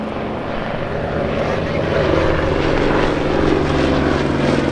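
Propeller engines of the B-17 Memphis Belle, a World War II bomber warbird at a Terre Haute airshow, drone as a loud, steady roar that swells slightly midway, with no talk over it.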